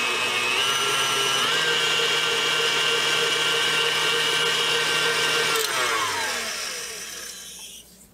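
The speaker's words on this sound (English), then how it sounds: "Blend my spices in." A blender whirs steadily, blending spices into a fruitcake pie filling, then winds down and fades out near the end.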